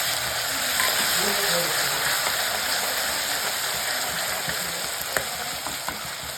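Paste frying together with browning onions for a stuffed eggplant curry, a steady dense sizzle close by with occasional faint clinks of a stirring utensil.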